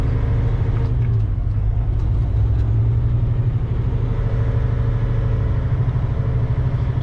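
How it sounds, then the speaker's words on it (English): Steady low rumble of heavy trucks and road traffic passing on a highway, a continuous loud engine drone with no talking. "Way too many trucks."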